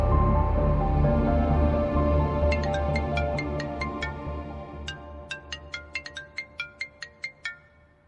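A phone ringtone chimes in a repeating electronic melody over a fading musical background, the bright beeps growing more distinct toward the end.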